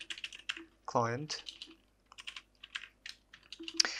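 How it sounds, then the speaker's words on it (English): Quick bursts of clicking keystrokes on a computer keyboard come in short irregular runs, close to the microphone, with a brief spoken word breaking in partway through. "I'm really sorry for typing because my microphone cable is in front of my keyboard"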